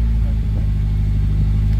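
Volvo 240 engine idling, a loud, steady low rumble close by with no clear revving.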